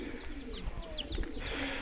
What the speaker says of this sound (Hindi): कबूतरों के रोले चल रहे हैं यार।